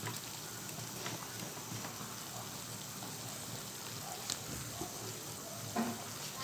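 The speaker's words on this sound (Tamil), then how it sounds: "பாருங்கள் எப்படி கலகலன்னு கொதிக்குது." Water bubbles and boils steadily in a cooking pot for mutton biryani, a soft continuous crackling hiss with occasional small pops, close and fairly quiet.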